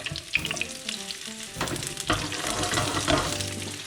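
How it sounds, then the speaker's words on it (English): Garlic and asparagus frying in hot oil in a pan for farfalle pasta with mushrooms, a continuous close sizzle with occasional stirring scrapes, background music underneath and no talk. "the oil is good, garlic cooked, asparagus inside"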